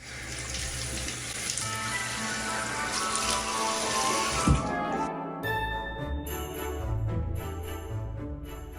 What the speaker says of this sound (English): now I'm just gonna wash it off with water.